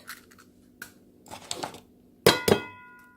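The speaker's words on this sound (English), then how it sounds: "We're gonna crack these eggs. Let's see if I can do it one-handed." Eggs cracked one-handed into a sprayed pan, a few soft taps and knocks followed by two sharp clinking cracks with a ringing tail near the end, close and otherwise quiet.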